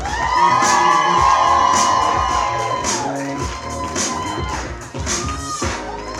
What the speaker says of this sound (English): a huge round of applause for our matron of honor, Brittany, escorted by Aaron